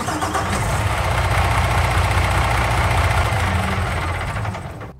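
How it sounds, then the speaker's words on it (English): A vehicle engine in the Farming Simulator video game cranks and settles into a steady, loud mid-pitched running rumble that continues evenly for several seconds before cutting off. "Okay, so there's the engine sounds."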